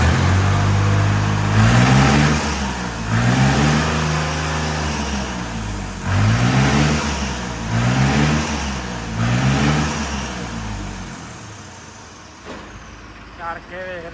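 A vehicle engine revs up and falls back in repeated loud, close surges, each rise climbing steeply in pitch before dropping away, several cycles in a row before it quiets near the end.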